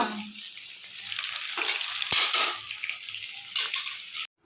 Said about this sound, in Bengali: চিংড়ি ভাজার দায়িত্ব আমার পড়েছে